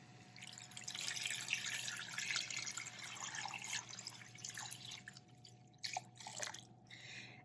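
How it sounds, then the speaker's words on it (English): Water pours and trickles over chicken stock ingredients, peppercorns and cider vinegar, in a pot. The splashing is soft and fairly close, with uneven dripping and a few brief louder splashes near the end. "and then I'm going to cover that with water"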